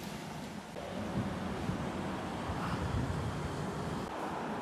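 Strong wind buffets the microphone in a continuous roar, with a rushing, surf-like wash and no talking.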